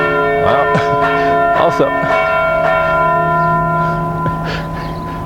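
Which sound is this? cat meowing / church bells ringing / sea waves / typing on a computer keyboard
church bells ringing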